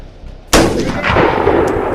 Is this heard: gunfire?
yes